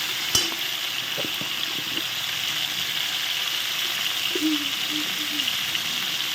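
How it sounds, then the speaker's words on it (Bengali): Cauliflower curry with salt cooks in a frying pan, a constant close sizzle running throughout with a few brief clinks and scrapes from stirring, and no one speaking. "লবণ দিয়ে একটু নেড়ে দিই"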